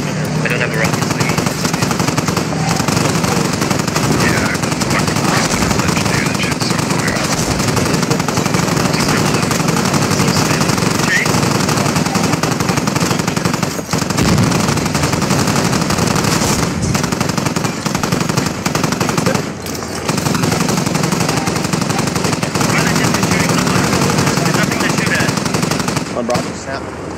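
Sustained heavy machine-gun fire from armored LAV vehicles in the Squad combat game, a dense unbroken rattle with booming hits, loud and close throughout, while players talk over it.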